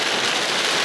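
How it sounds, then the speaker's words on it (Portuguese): Heavy rain in a storm around Brasília, a dense, even hiss of downpour that stays loud and unbroken throughout. "a chuva continua"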